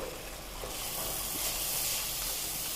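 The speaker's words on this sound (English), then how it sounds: "so that the raw smell goes when it cooks in this hot oil" Chili and turmeric powder sizzle in hot oil for a brinjal kara kulambu, a steady soft hiss that swells slightly and carries on alone without voices.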